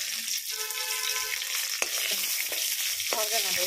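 Chopped onion sizzles and fries steadily in a hot pan with bay leaf and two chillies, a continuous close crackle with a few stirring clatters, no talking over it.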